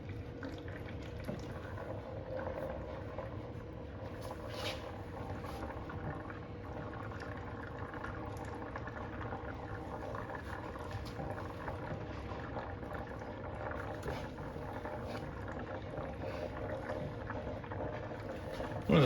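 Transmission oil drains from a Porsche 993 gearbox in a steady, low, gurgling trickle that keeps on without a break, faint and close, with no talking over it.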